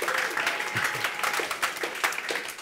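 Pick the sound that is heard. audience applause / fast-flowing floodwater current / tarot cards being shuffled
audience applause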